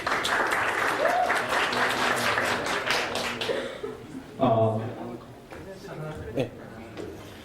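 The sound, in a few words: audience applause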